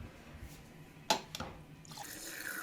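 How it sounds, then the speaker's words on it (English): A quiet sip of fresh fridge water: one sharp slurp or gulp stands out briefly midway, followed by a softer swallow and light watery rustle, with no talking. "grabbed another little sip of water."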